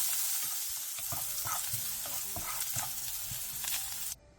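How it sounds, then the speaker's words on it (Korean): Carrots seasoned with salt stir-fry in a pan over medium-low heat, a steady close sizzle broken by scraping stirs, then cut off abruptly near the end. "당근도 소금 2분의 1티스푼을 넣어준 뒤 중약불에서 2분 정도 볶아주세요."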